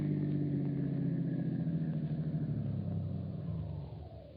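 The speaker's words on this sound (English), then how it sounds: "Turn into the workyard and park in our garage" A car in a radio drama pulls into a workyard garage and parks, its engine rumbling steadily close by, slowing, then easing off as it comes to a stop. No one speaks.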